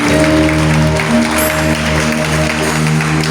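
Steady, loud applause from a congregation in a church carries on throughout, with held organ-like musical notes sounding beneath the clapping.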